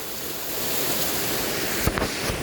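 Mountain stream water gushing out from between rocks, a steady loud broadband rush close by, with a few brief knocks near the end.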